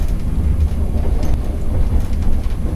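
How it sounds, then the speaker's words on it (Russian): ED9M electric multiple-unit train on the Svir–Petrozavodsk line pulling out of a station in winter, heard from the cab as a loud steady low rumble with faint rail clicks. "В данный момент отправляемся мы со станции ТГИ."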